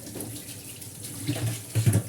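Water is poured into a cooking pot while making boal fish dopiaza in a home kitchen, a close, uneven splashing stream that swells louder near the end.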